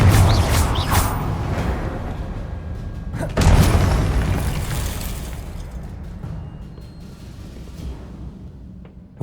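A Confringo blasting spell goes off in Hogwarts Legacy, a heavy booming burst with shattering debris, followed by a second strong impact and a long rumbling decay that fades out.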